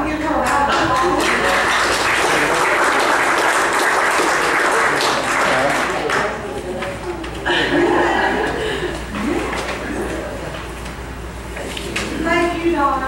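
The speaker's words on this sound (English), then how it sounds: "So I want to give her a round of applause." An audience at a county fiscal court meeting applauds in a sustained burst of dense clapping, with some chuckling and voices mixed in.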